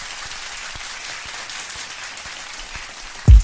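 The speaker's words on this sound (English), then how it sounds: "Round of applause." Applause from a gathered audience, a steady, moderate wash of clapping running throughout, with a sharp low thump at the very end.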